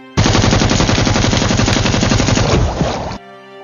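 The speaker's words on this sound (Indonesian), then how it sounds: "Tentara itu menembaki sungainya." Rapid, continuous automatic gunfire as soldiers shoot at a river in an Indian film, loud and dense for about three seconds before cutting off abruptly.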